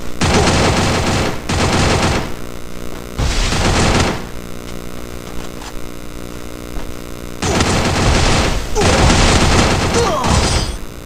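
Loud, close bursts of automatic gunfire rattle in a mobile shooter video game, coming in several long sustained volleys separated by short gaps, with a voice talking over the action.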